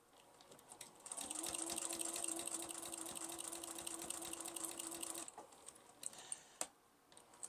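A sewing machine stitches quilt binding in a steady whirring run of about four seconds, close and fairly quiet, then stops, followed by a few soft handling clicks.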